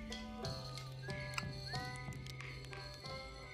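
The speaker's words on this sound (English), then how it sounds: "Taunting me with his ability to whistle." A traveler character in the Outer Wilds video game whistles a melody over quiet banjo-like plucked notes and soft tapping, the whistled tones gliding up and down at moderate volume.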